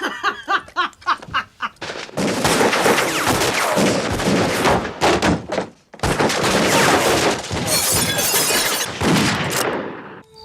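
A loud, dense Western shootout from the 1988 film Young Guns: rapid gunshot volleys roll almost continuously for several seconds, break briefly, then resume, with some laughter mixed in.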